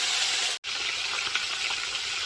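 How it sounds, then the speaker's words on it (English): Calamari frying in hot oil at home, a close, steady hiss and crackle of sizzling that cuts out for an instant and then resumes. "now it is frying"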